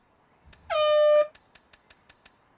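A video game car horn set to a car-won't-start effect sputters briefly, then blares in one long buzzy honk, followed by a quick run of six or seven short clicking starter-like ticks.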